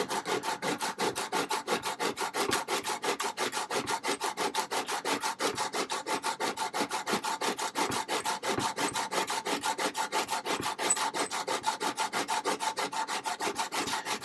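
Hand plane blade being sharpened on sandpaper with steady back-and-forth rubbing strokes, progressing through finer grits with a little Windex as lubricant; fast, even scraping rhythm, close and continuous throughout.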